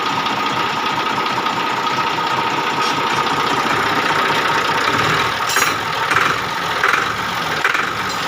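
Tractor diesel engine running steadily with a continuous mid-pitched rumble and slight rises in revs, close and fairly loud throughout, no talk over it.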